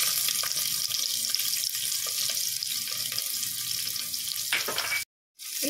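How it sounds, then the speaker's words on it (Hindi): Chopped onions fry in a pot with cumin and green chillies, giving a steady, close hiss and sizzle with faint stirring scrapes, ending in a brief moment of silence. "अब इसमें डाल देते हैं कटे हुए प्याज।"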